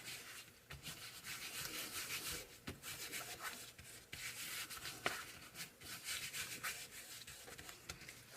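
Vintage Photo ink is rubbed onto a surface to create a faux leather look: soft, continuous scrubbing strokes in a steady back-and-forth rhythm, close and quiet, with no talking.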